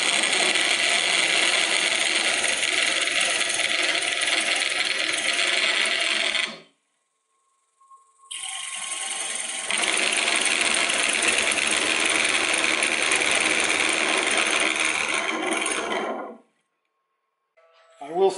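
Woodturning lathe cutting with a sharp Hunter Korpro carbide cutter: a steady, loud, broadband shearing hiss that runs for several seconds, stops briefly, resumes, then cuts off again, close up with no talking.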